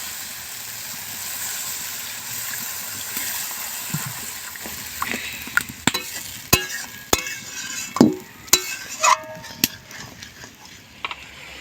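Water goes into masala frying in a pan for rui fish kalia, raising a hissing sizzle with stirring, then a run of sharp metallic clinks and scrapes of a spoon against the pan.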